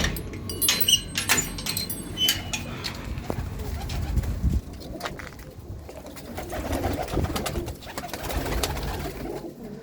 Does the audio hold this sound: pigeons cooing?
yes